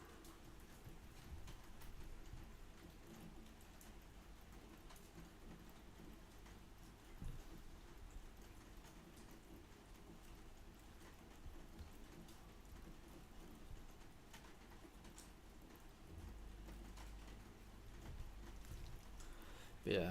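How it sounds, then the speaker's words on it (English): Steady rain pattering against windows, a soft continuous hiss with a low rumble beneath, faint and even throughout with a couple of slightly louder bumps. "I love the sound of rain coming down against the windows."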